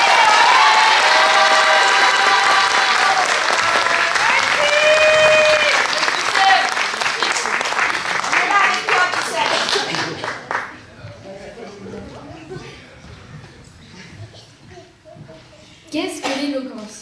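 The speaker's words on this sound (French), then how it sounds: "Applaudissements encore pour eux" An audience at an eloquence event applauds Pierre and Ibtissem with dense, loud clapping mixed with cheers and whistles, then it thins out and fades into scattered claps and murmurs.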